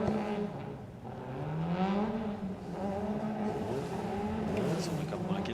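Side-by-side off-road vehicles race at the Trois-Rivières Grand Prix, their engines droning and rising in pitch as they pass, under steady commentator talk.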